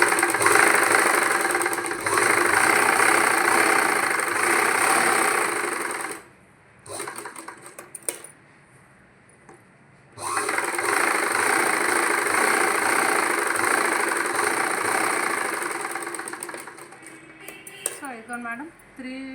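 A sewing machine runs steadily while stitching a Punjabi pant box, pausing briefly partway and then resuming its fast, continuous mechanical whir. It is close and loud, with a few light clicks near the end.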